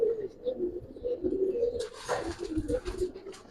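Low, repeated pigeon cooing close by, a rhythmic murmuring run of coos with some rustling and light background noise.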